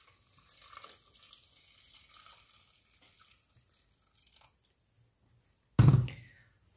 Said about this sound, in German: Jetzt gebe ich hier auch schon mal heißes Wasser mit rein.